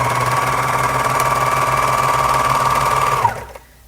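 Sewing machine stitching seams on a child's pile-fabric sweatshirt, a loud close rapid mechanical whir with steady rhythm that stops abruptly near the end.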